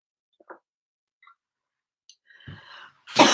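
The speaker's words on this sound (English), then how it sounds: "I'm going to cough." A person coughs: after near silence broken by a few tiny clicks, there is a short rough cough and then a louder burst right at the end, close to the microphone.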